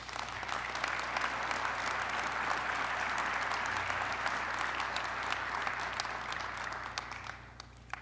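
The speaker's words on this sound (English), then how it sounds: "Please give each other a round of applause." Community members at a mayoral medallion ceremony applaud each other, sustained crowd clapping heard from a distance, fairly even throughout before easing off at the end.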